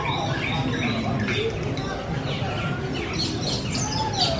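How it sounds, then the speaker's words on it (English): Birds call and squawk in a dense aviary along a jungle trek at a zoological theme park, scattered chirps and calls over steady crowd murmur and talk. "There are too many birds."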